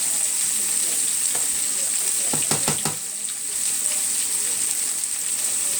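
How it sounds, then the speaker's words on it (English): Mustard chicken sizzles hard in a pan over high heat, a dense, loud, continuous frying hiss, with a brief run of spatula scrapes midway. "We're cooking on high heat. We'll start pulling this up here as it's browning."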